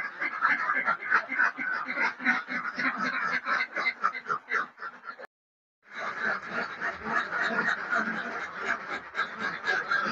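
Laying ducks on a duck farm quack continuously in a dense, near chorus of overlapping calls, briefly cutting out before resuming just as loud.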